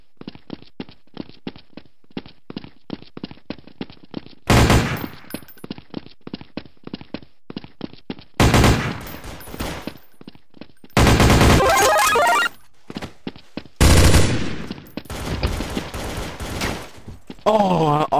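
Rapid pistol shots from a Glock in Counter-Strike: Source gungame, a quick string of sharp pops up close, broken by several louder bursts of heavier game gunfire and chaotic action noise.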